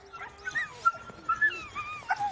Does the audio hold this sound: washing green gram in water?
no